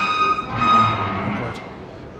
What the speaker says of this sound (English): I hate squeaky escalators.